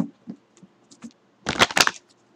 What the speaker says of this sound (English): Let me go ahead and shuffle up some cards here.